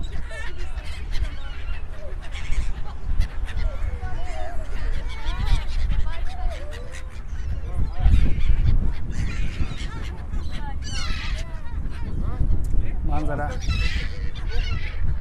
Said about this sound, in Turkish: Sesler geliyor mu şayet kuşların?